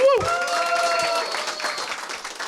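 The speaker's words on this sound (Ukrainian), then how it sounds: "дайте Артем оплески!" Applause from a comedy improv audience for a man named Artem, a short burst of crowd clapping that follows a brief voice at the start and carries on steadily through the moment.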